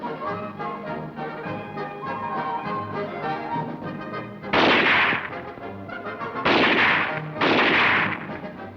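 Gunfire at an annual army ski and shooting meet, three loud bursts of shots cutting in after a stretch of orchestral music.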